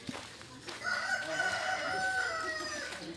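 A rooster crows once, a long drawn-out call close by, after a faint cluck at the start.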